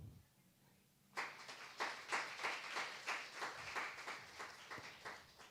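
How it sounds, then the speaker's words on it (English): A forum audience at an international world heritage event bursts into applause after a moment of quiet, with soft, even clapping that continues steadily to the end and no talking. "You deserve the more support and more applause from us."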